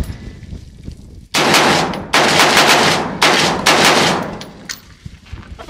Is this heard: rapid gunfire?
yes